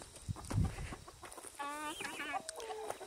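Chickens and guinea hens on a farm cluck and call up close, with brief low rustling and thumps at first, then a run of sharp, rhythmic, high-pitched clucking calls that continues to the end.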